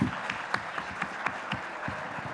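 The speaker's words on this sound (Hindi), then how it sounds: "जोरदार तालियां।" Audience applause with irregular claps, fairly faint and distant, filling a brief moment at a political conference.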